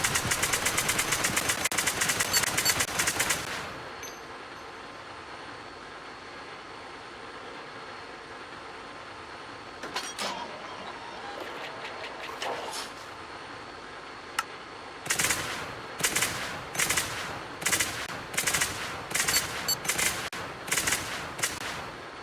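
A ULA gunship cannon fires in the video game Angels Fall First, an opening sustained burst, a few sporadic shots midway, then a run of rapid evenly spaced loud bursts over a low engine hum.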